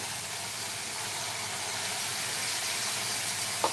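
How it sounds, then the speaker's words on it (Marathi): Water poured into a pot of sizzling spice masala while cooking black chickpea curry, giving a steady, close hiss and sizzle that runs unbroken throughout with no talking. "थोडंसं आपण या मसाल्याच्या भांड्यामध्ये पाणी घालूया"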